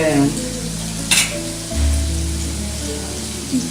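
Chunks of elephant yam (karunai kilangu) sizzle in a hot pan as they are stirred, a steady crackle broken by a couple of brief scraping bursts, with a faint voice underneath.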